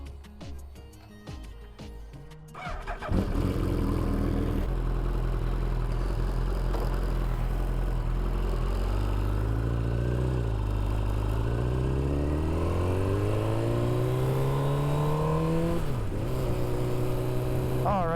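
A 2003 Suzuki Hayabusa rated at 210 hp fires up after a few seconds of quiet, then idles and revs loudly nearby, its pitch climbing and dipping through several throttle blips and one sharp drop.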